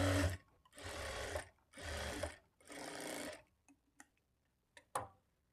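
A sewing machine stitches a lining belt on a blouse in three close bursts of fast, rattling whirring, followed by a few isolated ticks and clicks as it stops.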